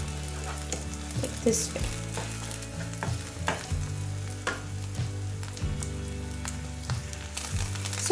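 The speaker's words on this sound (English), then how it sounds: "I have fried this egg with the onion, and it's like egg bhurji" Egg stirred and fried with onion in a pan into egg bhurji, a steady close sizzle broken by repeated spatula scrapes and clicks, with a brief spoken phrase.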